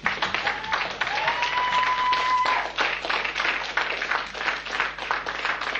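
An audience at the Roscars 2003 awards event applauds the four lifetime members, a steady round of clapping at moderate loudness with a brief whistle-like tone early on.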